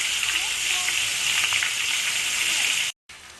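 Prawns fry in a karahi with a close, continuous sizzle and soft crackle for a few seconds, broken by a brief cut near the end before the sizzling resumes.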